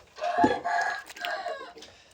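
Indian breed rooster kept in a coop, giving a short hoarse crow followed by brief clucking calls, close and fairly faint, with rustling in the background.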